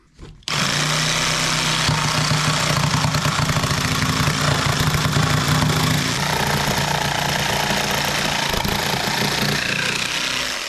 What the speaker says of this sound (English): So just going to jigsaw that down that line